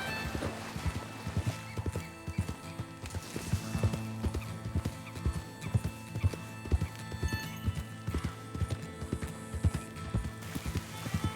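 Horses gallop in the Red Dead Redemption 2 video game, with steady rhythmic hoofbeats clip-clopping throughout and occasional whinnies layered over the running herd.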